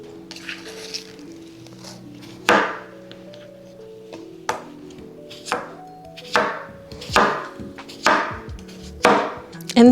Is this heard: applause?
no